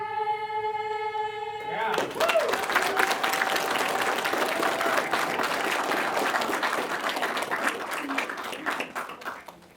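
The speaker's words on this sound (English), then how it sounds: "A big round of applause for Central Middle School Choir" Crowd applause for a middle school choir at a library groundbreaking ceremony breaks out after the tail of a sung anthem, dense clapping with some voices, sustained and tapering off near the end.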